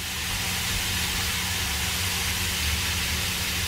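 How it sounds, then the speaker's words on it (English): A thin steak pan-fries for steak and eggs, a steady loud broadband sizzle close to the pan with a low hum underneath and no speech. "Yep, pan frying away."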